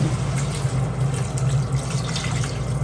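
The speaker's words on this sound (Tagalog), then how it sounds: "Lagyan ko ng kunting tubig." Water poured into a pan of sweet and sour fish (escabeche) while it cooks, giving a steady, close, continuous splashing trickle with a low hum underneath and no talking.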